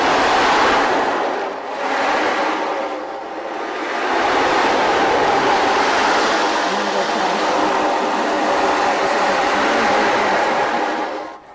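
An ocean drum is tilted so its beads roll across the head, producing a loud, close, continuous wash like surf that swells, briefly dips and rolls on again.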